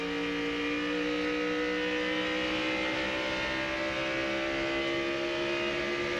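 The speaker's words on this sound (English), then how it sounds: "Sure acts like he has got engine problems. The truck is not up to speed." A race truck in the 2000 NCTS Grainger.com 200 with engine problems slows on the backstretch, giving a steady, droning engine whine whose pitch sags slightly, with no talk over it.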